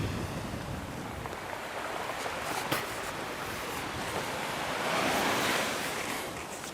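Strong gusty wind sweeps across a kitesurfing beach, a steady broadband roar with surf washing beneath it and a swelling gust toward the end, no voices.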